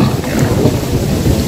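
Thunderstorm from a video game, a steady rush of rain with deep rolling thunder rumbling continuously and loudly throughout, no talk over it.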